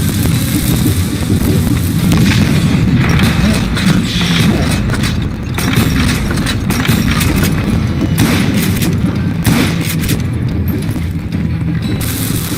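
Dynamite blasts and gunfire in the Call of Juarez Western shootout game form a dense, loud, continuous barrage of booms and crackling shots with no pauses.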